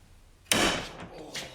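A Harbor Freight ratchet failing under torque as its anvil snaps and shears, one sudden loud crack followed by a short ringing decay and a fainter second knock.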